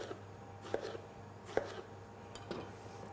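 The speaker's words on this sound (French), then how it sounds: "Je vais trancher les aubergines." Knife slicing through aubergines on a board, a few distinct chopping taps spaced about a second apart over a quiet kitchen hum.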